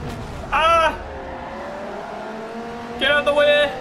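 Devon GTX engine driving in Forza Motorsport 4, a steady droning hum with two louder revving bursts, one early and one near the end, rising in pitch.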